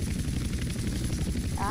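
A helicopter flies in the video game GTA San Andreas multiplayer, its rotor and engine giving a continuous throbbing drone at a steady level. A brief rising tonal sweep comes in at the very end.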